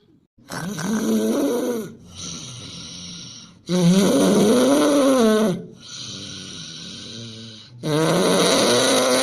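An animated character in an Awadhi comedy snores in exaggerated cartoon fashion, with loud, groaning draws alternating with buzzy, softer breaths over about five cycles, close and alone without speech.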